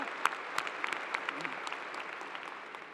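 Applause from a commencement audience at Clemson University's fall ceremony, a moderate spread of claps with a few sharper hits standing out, fairly steady over the whole stretch.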